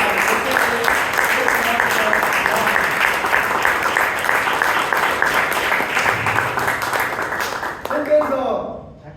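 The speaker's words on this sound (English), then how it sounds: "Let's give a huge round of applause for our" An audience at a Bangalore Toastmasters meeting gives a sustained round of applause, many hands clapping steadily before it tapers off and a voice begins speaking.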